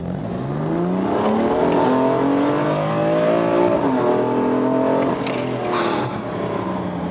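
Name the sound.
BMW M4 accelerating hard on the road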